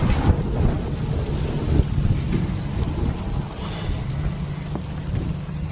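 Strong wind buffets outdoors beside an abandoned 1925 house under restoration, a steady low rumbling gusting roar with no talk.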